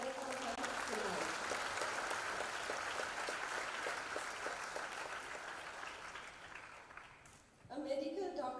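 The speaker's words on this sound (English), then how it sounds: "Can we please give a big round of applause and welcome her tonight" An audience at a prize-giving and graduation ceremony welcomes the chief guest with sustained clapping that gradually fades over several seconds, before a voice begins speaking at the close.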